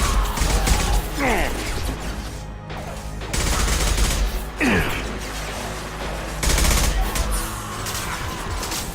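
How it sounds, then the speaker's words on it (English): Concussive shots fire in the Mass Effect 2 video game, several heavy blasts with swooping whooshes and crashing impacts amid a dense, loud battle din, a burst near the start and more around the middle and end. "Firing concussive shot!"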